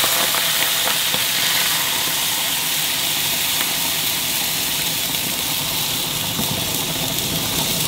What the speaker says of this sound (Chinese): 下入开水